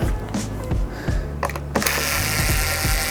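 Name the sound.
screws being unscrewed inside a Technics turntable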